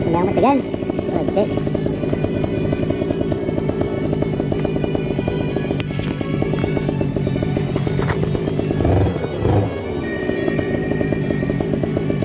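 A paramotor engine revs hard and steadily for takeoff, a loud, close, buzzing drone that holds throughout, with wind noise and brief clatter on top.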